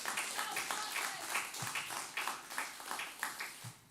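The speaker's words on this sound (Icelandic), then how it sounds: "Ef ekki að klappa einu sinni bara fyrir þessu fólki hérna" A church congregation applauds after a worship song, brief scattered hand clapping, fairly faint and soft, lasting a few seconds.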